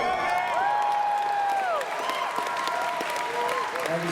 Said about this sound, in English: I shall accept that applause or applause on behalf of everybody who is wearing this yellow lanyard